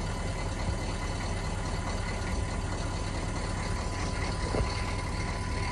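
A 1997 half-ton pickup truck engine, freshly fitted with a new injection pump, runs at a steady idle, a continuous close rumble with no pauses.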